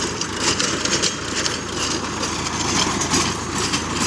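A Sonalika tractor engine runs at a steady idle, a continuous low mechanical rumble with a faint rhythmic throb, close and fairly loud, with no voices over it.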